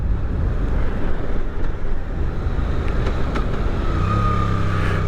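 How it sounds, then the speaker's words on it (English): A 2024 Suzuki GSX-8R motorcycle engine braking into corners, a steady engine drone mixed with wind rush from a rider's microphone, with a rising tone near the end. "oh, that engine braking into corners is lovely"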